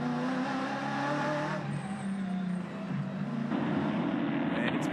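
V8 Ute race cars roar through the Sydney circuit, a steady, loud engine drone with shifting pitch as the field passes, one car running wide down the escape road, with commentary talking over the noise throughout.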